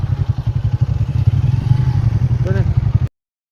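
Several motorbikes ride together through pine forest toward Panjpeer rocks in Kahuta, Pakistan, their engines a steady close rumble that holds for about three seconds under a voice.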